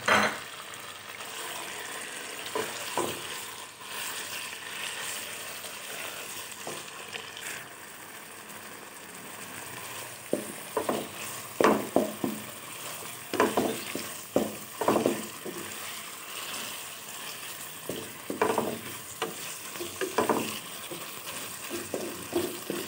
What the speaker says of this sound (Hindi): चिकन को पहले हम अच्छी तरह से फ्राई कर लेंगे।